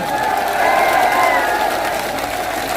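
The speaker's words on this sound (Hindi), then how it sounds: "आप दोनों हाथ खड़े करके जोरदार इनकी तालियों से स्वागत करें।" A large crowd at a political rally in Jaitaran, India claps and cheers together in a steady, dense wash of applause that holds at a strong level throughout.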